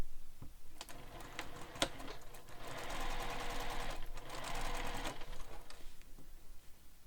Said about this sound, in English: Now we're going to top stitch this.